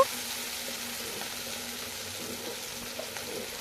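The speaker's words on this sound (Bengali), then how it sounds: "এইভাবে আমি চিংড়িগুলোকে ভেজে নেব" Quiet, steady sizzle of prawns frying in oil for prawn pulao, a soft continuous crackle with a few faint pops, no talking.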